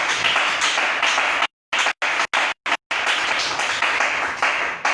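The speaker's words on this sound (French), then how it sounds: "Quelqu'un peut-il applaudir très bien le Seigneur Jésus?" A church congregation applauds in a dense, loud burst of clapping, broken by several abrupt dropouts to silence midway before the clapping resumes and carries on to the end.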